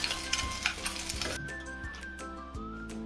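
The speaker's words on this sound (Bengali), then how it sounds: "ডিমটা ভেজে নিচ্ছি একটু কড়া করে" An egg fries hard in a pan for a Bengali vegetable-and-egg sandwich, giving a steady close sizzle and crackle with a few soft scrapes of stirring, loud at first, then thinning to a lighter hiss.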